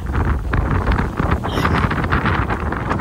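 Wind buffets a sailing boat under way in Danish waters, a loud, continuous, rumbling roar blasting across the microphone for a few seconds.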